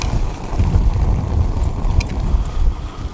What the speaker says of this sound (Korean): 바람이 점점 세집니다.